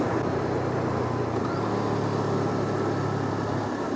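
A Honda CL500 motorcycle engine with an assist slipper clutch drones steadily on a mountain pass during a downshift. Its hum changes pitch partway through, under constant wind rush.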